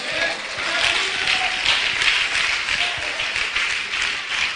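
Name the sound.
church congregation applause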